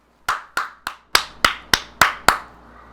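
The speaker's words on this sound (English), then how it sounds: "after every single defensive stop he got, he clapped out loud for the camera" A football player claps his hands after a defensive stop: eight sharp, close, loud claps in a steady rhythm, with no talking.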